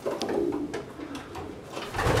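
Pigeons in a loft cooing steadily in soft overlapping calls, with a rustle of wings and movement nearby; young racing pigeons of Batenburg and van de Wouwer lines.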